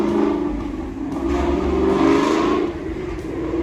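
A long-abandoned BMW M3 engine runs and revs after being brought back to life, a loud close rumbling that swells and eases in uneven waves.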